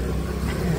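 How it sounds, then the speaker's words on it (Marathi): A car with one tyre spinning in place, stuck on a rural road on the way to a farmhouse, gives a steady low engine rumble with a straining mid-range drone for a brief moment. "एक जागीच टायर फिरतोय."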